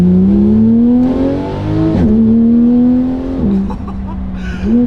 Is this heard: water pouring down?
no